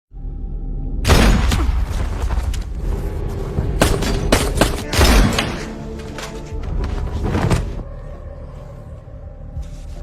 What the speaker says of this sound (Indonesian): di sini Mike tertembak oleh Rusty namun dia juga berhasil menembak Rusty